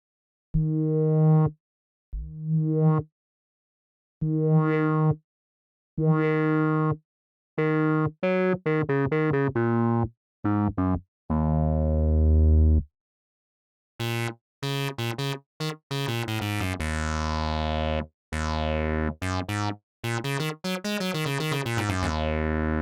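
Crumar Spirit synthesizer by Cherry Audio playing short notes and phrases with an ADSR filter envelope sweeping the upper and lower cutoff, moving from clean separated tones to brighter, sweeping, buzzy notes with rising and falling filter contours, heard alone.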